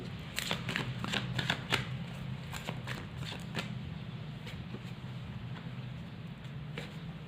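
Tarot cards being shuffled and drawn, a quick run of crisp riffling snaps near the start that thins into occasional soft card flicks over a low background hum.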